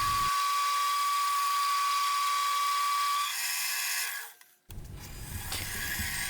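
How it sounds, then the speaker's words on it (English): A rotary tool bevels the edge of a ring made from a hex nut, giving a steady high-pitched whine that drops away near the end, then gives way to rougher, scratchy workshop noise. "Here I began the process of putting a bevel on this ring."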